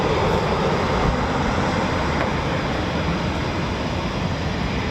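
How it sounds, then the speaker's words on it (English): Loud, steady broadband jet roar from a Eurofighter Typhoon FGR4 at RAF Coningsby, filling the whole few seconds with an unbroken engine rumble and hiss and no voices. "there's another Typhoon waiting to depart"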